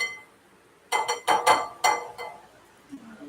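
A whisk and a spoon clink against a glass bowl in a kitchen, a quick cluster of four or five bright taps followed by one last lighter knock, close and clear over a quiet room.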